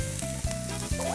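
Onions and carrots sizzle in a pan for a shrimp stone-pot bibimbap, a steady close frying hiss with two brief clunks of the pan or utensil and a thin tonal hum underneath.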